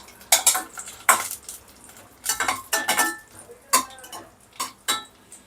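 Cashews and raisins roasting in a pan for a Srirangam jeera sweet, heard as a series of sharp, close metallic clinks and scrapes of a spoon against the pan, spaced irregularly and with no talking.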